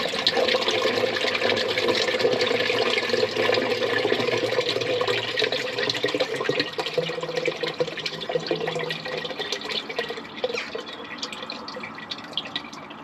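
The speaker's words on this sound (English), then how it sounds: "Now I've just asked them to flush the toilets." Toilets flushed upstream send water rushing through a backed-up sewage drain, a loud, continuous gush and trickle that slowly eases, with no talking.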